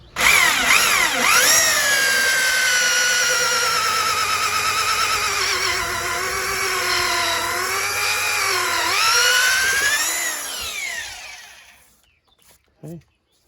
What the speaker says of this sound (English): Just clear the drill bit off.